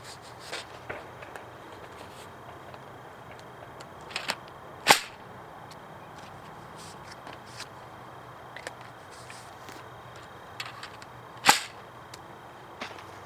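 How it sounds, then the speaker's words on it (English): A Nerf Blazin' Bow toy bow launching foam darts outdoors, with two sharp snapping releases standing out over quiet background and faint scattered clicks, no talking. "We're going to be shooting the Blazin Bow."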